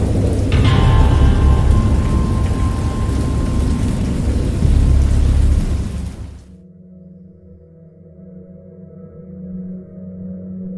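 Heavy rain pours with deep rumbles of thunder for several seconds, then the storm abruptly cuts out to a quiet low hum.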